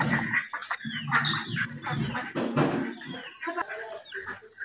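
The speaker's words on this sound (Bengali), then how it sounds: "এই তো সেই হাঁসগুলা।" Village farmyard fowl kept in a former cow shed call out in a close cluster of quacking, clucking cries, several birds overlapping in irregular bursts.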